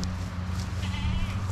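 Sheep on a farm bleating in a few faint, wavering calls over steady low rumble and background noise, with no talk.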